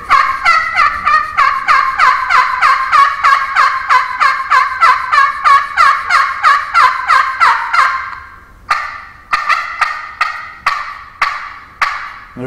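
Loud, rapid series of sharp wild turkey hen cutting calls, close and continuous, followed after a short break by more spaced-out clucks and cuts.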